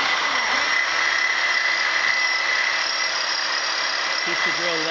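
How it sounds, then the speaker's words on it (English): Electric drill with a 10 mm bit cutting into a steel pipe, a loud continuous high whine held steady for several seconds, close by, with a brief pitch wobble near the end. "I'm going to be drilling until I've got the biggest pilot hole I can do"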